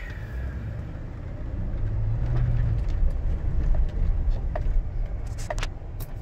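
A 2004 Ford F-150 pickup rolls off in gear, its engine a steady low rumble that swells slightly as it moves, with faint clicks and knocks near the end and no voices.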